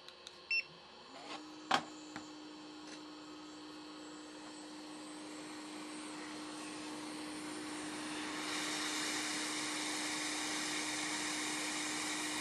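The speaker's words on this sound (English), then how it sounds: "with the help of air station, we remove the capacitor" Hot air rework station blowing on an SMD capacitor during desoldering: a few soft clicks, then a steady faint fan hum with a high airy hiss that swells louder toward the end.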